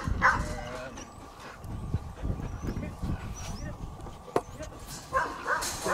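Rat-hunting dogs give scattered barks and yips during a hunt, some near and some farther off, mixed with whimpers and honk-like calls while people talk throughout.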